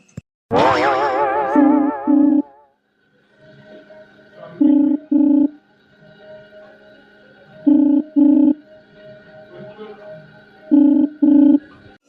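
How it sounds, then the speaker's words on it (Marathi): An outgoing phone call rings unanswered: after a short opening tone, a double-pulse ringback tone repeats four times at steady intervals, clear and close, with no one speaking. "रिंग तर जाऊन राहिली पण फोन नाही उचलून राहिले"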